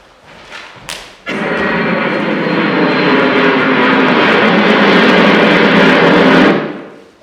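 An airplane engine sound effect plays at a school stage performance: a soft thump, then a loud, steady, close jet-like roar that holds for several seconds before cutting off sharply.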